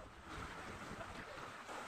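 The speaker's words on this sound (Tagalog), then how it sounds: "Pero malakas ang alon. Malaking alon." Strong sea waves surge near a cave in Quezon Province, a faint, continuous wash of surf and wind noise lasting about two seconds with no clear voices.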